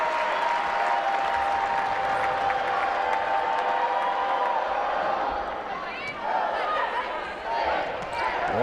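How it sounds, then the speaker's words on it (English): A volleyball crowd at the Devaney Sports Center keeps up a steady roar of cheering and clapping through a college tournament match, dense and continuous, with a commentator talking over it. "Crowd here at the Devaney Sports Center trying to get into it."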